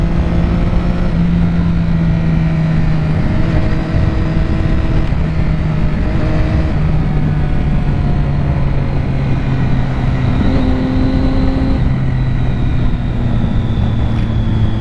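A 2006 Triumph Daytona 675 three-cylinder engine drones loudly and continuously while riding through corners, its pitch rising and dropping with throttle and gear changes over steady wind rush.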